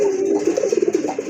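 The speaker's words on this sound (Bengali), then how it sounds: "এটা কিন্তু অনেক ভালো ডাকে কবুতরটা, এই যে দেখেন ডাক কিন্তু অলরেডি শুরু হয়ে গেছে।" Male pigeon cooing close up, a short run of soft, rapid throaty coos rising into a quick pulsing series, alone and clear.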